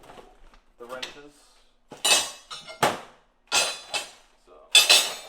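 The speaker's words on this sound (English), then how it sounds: "Let me clean up the wrenches." Metal wrenches get gathered up in a garage, a handful of sharp clanks and clinks in irregular bursts, close and fairly loud, after a brief moment of speech.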